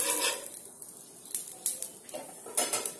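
A hot pan is greased with oil for vegetable paratha: a quick series of close metallic clinks and scrapes from a utensil against the pan, with a faint sizzle between them.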